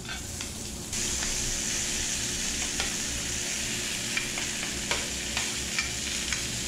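Steady, loud sizzling of seafood kare-kare with squid, shrimp and mussels on a hot sizzling plate, a continuous frying hiss with occasional pops and crackles.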